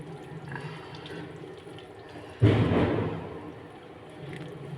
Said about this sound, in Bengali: এবার আমি টমেটোর পিউরিটা ছেড়ে দেবো, মানে আমি টমেটো সিদ্ধ করে গুলে নিয়েছি।